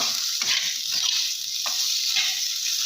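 Close, continuous sizzling of spices frying in hot oil, with faint stirring scrapes now and then.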